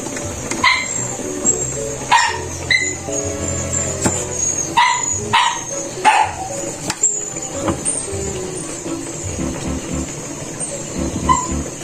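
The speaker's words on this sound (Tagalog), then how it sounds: "Iingi po ang aming doggy. Nakaamoy ng bango." A pet dog barks and whines near a kitchen where soy sauce and calamansi dipping sauce is being made for litson kawali, with repeated sharp barks broken by whimpering yips, close and fairly loud.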